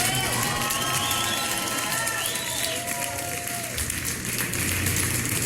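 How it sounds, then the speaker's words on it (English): Audience at a drag comedy and music show claps and cheers together, a dense, steady wash of applause with whoops and voices mixed in, loud and continuous throughout. "so clap for everybody here"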